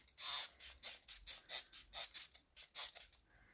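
A series of short, quiet spray bursts repeats in a rapid rhythm close by, each a brief hiss with little pause between.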